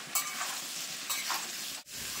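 Amla sizzling in hot oil as salt and turmeric are stirred through, a bright continuous frying hiss with soft swells as the spoon moves, close and without speech.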